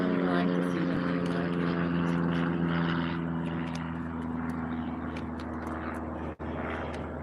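Private propeller planes fly overhead outdoors, a loud steady droning engine hum with a strong tonal buzz that slowly fades as they pass, with no talk during it.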